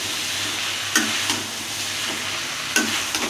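A sauté of salt, turmeric and a little sugar sizzles steadily in a pan, with a few soft scrapes and knocks of stirring breaking through the even frying hiss.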